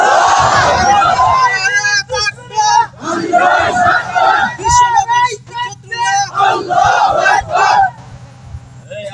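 Crowd at a religious rally roaring back in loud, repeated chants answering a takbir call, surges of massed voices rising and falling over nine seconds, close and dense.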